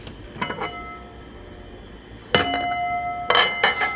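A lid is set onto a pot of simmering dirty rice, giving a few bright metallic clinks and a ringing clatter, faint at first and then two louder sets of clanks close by.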